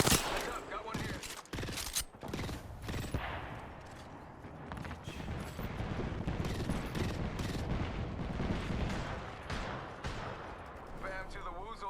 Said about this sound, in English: They're hitting me. The enemies are shooting at me.